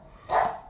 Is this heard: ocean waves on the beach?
no